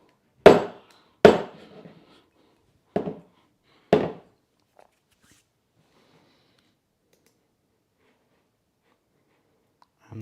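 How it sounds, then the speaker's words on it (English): A Christmas pudding basin tapped down on a hard surface four times in uneven succession, each knock sharp and fairly loud, followed by a faint tap and then quiet. "just tapping out the air bubbles"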